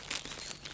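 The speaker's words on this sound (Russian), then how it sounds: "Сейчас я пакетик достану и положу в пакетик." A plastic bag is pulled out during a forest rest stop, making a brief, soft crinkling rustle, close but faint, with no talking.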